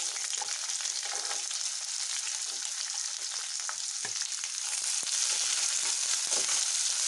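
Sliced onions and green chillies frying in a pan give a steady, close, continuous sizzle that holds at an even level throughout, with no voices.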